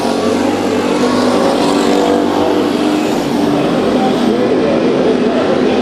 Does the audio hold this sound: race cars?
yes